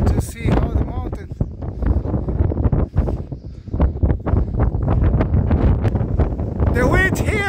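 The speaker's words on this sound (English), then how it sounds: "The wind here is very hard." Strong wind buffeting the microphone high on Cotopaxi volcano at 4,500 meters, a steady loud roar and rumble throughout, with people talking over it.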